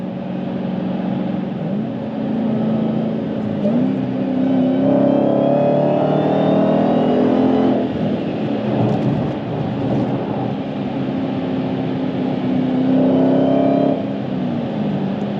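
Supercharged V8 of a manual Dodge Challenger Hellcat revving hard under acceleration, a loud continuous engine roar with rising whine tones, sustained throughout at close range.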